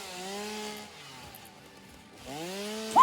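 A chainsaw in the video game Satisfactory drones steadily, fades to a low idle for a moment, then revs back up, with a brief sharper blip at the end.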